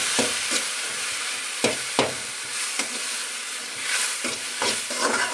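Onions and ingredients sautéing with cumin and black pepper in a hot pan while making a soup: a steady sizzle broken by repeated sharp scrapes and stirs of a spoon against the pan, close and fairly loud.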